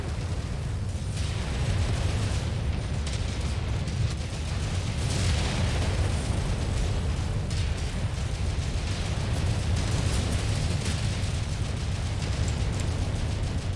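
Weapon fire and explosions in the video game MechWarrior 5, a continuous dense roar of rapid booms and blasts with heavy low rumble, sustained without pause.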